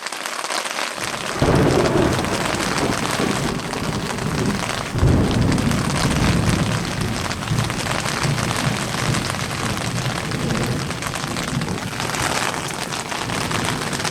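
Heavy rain pounds steadily on a tent at a winter river float camp, with deep rolling thunder swelling in around two seconds and again near five seconds, loud and continuous with no talking.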